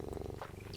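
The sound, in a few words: cat purring into the microphone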